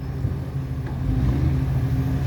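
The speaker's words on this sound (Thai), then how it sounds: "กับขุมพลังนะฮะ เครื่องยนต์อีซูซู 4HK 1X นะครับ" A Sumitomo SH210 excavator powered by an Isuzu 4HK1X diesel engine runs while digging a farm water pond at a durian orchard, a steady low engine drone with a rising hum, continuous and fairly close.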